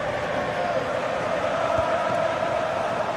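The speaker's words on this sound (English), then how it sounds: "Well, just listen to this crowd." A football crowd in a video game roars in a steady, dense wash of cheering and chanting that fills the background without pause.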